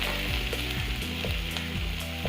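Finely chopped onion frying in hot oil gives a steady, close sizzle with faint stirring scrapes, and no voices over it.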